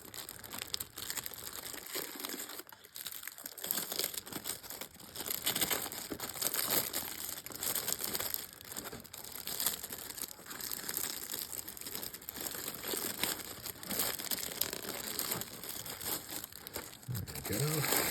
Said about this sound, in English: It's a wrapped cellophane as opposed to the heat shrink stuff that we get